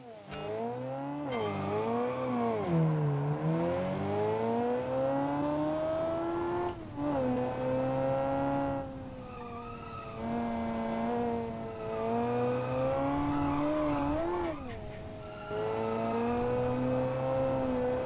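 A 1980s Japanese-market car with a flat-plane V8 launches in the BeamNG driving game, its engine revving hard and loud with rising and falling pitch through several gear changes, close and continuous with no talk.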